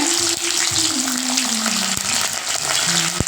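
Garlic and curry leaves sautéing in oil for a dried fish thokku, a loud, close sizzle with sharp spattering crackles and a few clinks, no talk.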